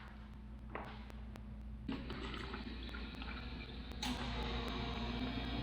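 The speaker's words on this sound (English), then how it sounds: "a nice place to refill your water bottle" Water bottle being refilled at a drinking fountain at a stop on a mountain road-bike climb, a steady stream of water running and filling for several seconds with a few brighter splashy bursts, close and moderately loud.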